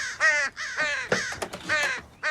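Crows caw repeatedly in a Modern Family scene, a run of loud, harsh, close calls in quick bursts with short gaps and no talking.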